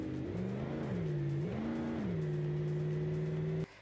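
A Ford F-250 truck engine in BeamNG Drive revs while towing, with its pitch climbing and dropping through gear changes before settling into a steady drone. It is loud and alone and cuts off abruptly at the end.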